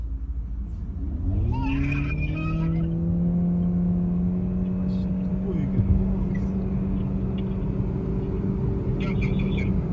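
A 2026 Chery Arrizo 8 hybrid and a 2026 BYD Qin L DM-i super hybrid accelerate from standstill in a drag race, a steady rising engine and road rumble heard from inside one car, with a brief chime and some low tones throughout.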